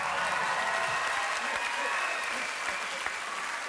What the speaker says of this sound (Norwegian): Paul han kommer seg opp på flyet og tar imot publikums applaus.